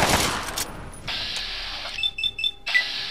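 Gunfire in Fallout 3: a sharp burst of shots followed by a few quick metallic clicks and beeps, short and loud with no talk.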